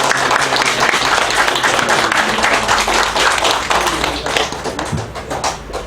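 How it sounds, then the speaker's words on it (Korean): A church congregation applauds together at a Sunday worship service, steady dense clapping filling the room for the whole stretch, loud and close, tapering slightly near the end. "함께 수고했던 귀한 우리 성도들 서로에게 격려의 박수."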